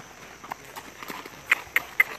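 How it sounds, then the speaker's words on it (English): Horse hooves clip-clopping at a slow walk, a few crisp evenly spaced hoof strikes on hard ground, fairly close and moderately loud. "We are horse riding."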